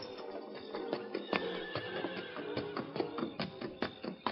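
A horse whinnies and its hooves clip-clop in a steady trotting rhythm close by, as a radio drama effect for the Lone Ranger's horse Scout at a ranch corral; no voices.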